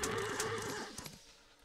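A horse archer's horse in the Old World strategy game lets out a short, close whinny with a wavering pitch, fading quickly into quiet.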